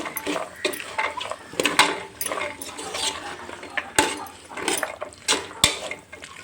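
Green peas being stirred in a metal cooking pot for matar pulao: repeated scraping and clinking of a spoon against the pot in irregular bursts, close and fairly loud, with a few sharp knocks.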